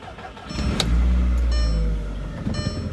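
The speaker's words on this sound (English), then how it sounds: "Hook the battery up, and this is how quickly it will start." A car engine cranks briefly and catches right after its battery is hooked up, settling into a loud, close idle for a couple of seconds before easing slightly.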